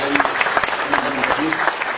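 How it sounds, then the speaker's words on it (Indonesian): An audience at an Islamic religious gathering claps in a lively, fairly close burst of applause, with voices sounding over the clapping the whole time. "Tepuk tangan untuk semua"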